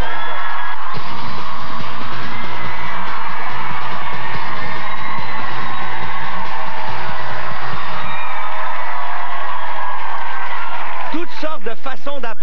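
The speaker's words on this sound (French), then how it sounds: "J'aimerais ça qu'on la applaudisse bien fort, s'il vous plaît." Studio audience on a TV show applauding and cheering a guest loudly, a dense wash of clapping with whoops and yells that carries on for several seconds, then fades as a voice begins speaking.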